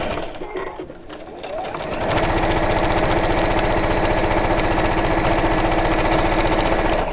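A sewing machine stitches a seam on a simple fabric bag, starting after a quiet moment and then running in a fast, steady, close-up mechanical whir.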